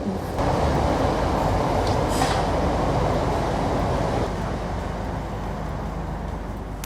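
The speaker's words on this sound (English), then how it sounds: "Sorry about the train." A train rolls past close by, a loud steady rumble of wheels and carriages that fills the whole stretch without a break and eases slightly toward the end.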